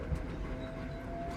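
A train rolls through a snowy Scandinavian forest in winter near the tree line, a steady low rumble with faint rhythmic clicks from the rails, continuous and even throughout.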